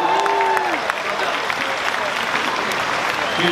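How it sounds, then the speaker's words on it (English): A Comic-Con panel audience claps for itself, sustained loud applause from a large crowd with scattered cheers, and a brief voice rises above the clapping near the start and again at the end. "Give yourselves a round of applause."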